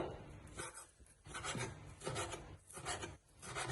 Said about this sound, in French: On les hache un peu. En évitant de se couper les doigts.